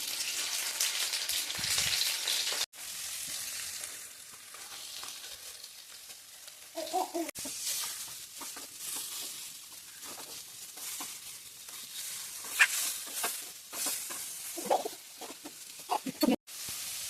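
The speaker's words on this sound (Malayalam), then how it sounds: "രണ്ട് ഭാഗം നന്നായിട്ട് നേരിച്ച് നമുക്ക് പൊരിച്ചെടുക്കാം" Food fries in rice bran oil in a hot pan, giving a continuous close sizzle with bursts of spattering crackle and scraping stirs, broken by a couple of sharp clicks.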